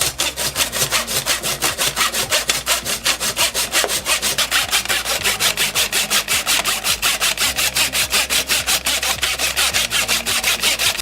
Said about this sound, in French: Il n'est plus qu'à scier la pièce de bois.